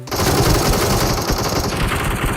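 Dense, continuous automatic gunfire from the mobile battle-royale game PUBG Mobile, loud and close, with rapid overlapping shots filling the whole stretch without pause.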